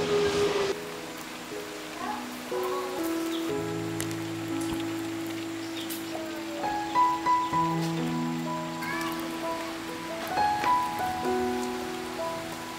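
Rain falls steadily at a house under construction in rural Vietnam, a soft continuous patter beneath intermittent tonal sounds and other background noise.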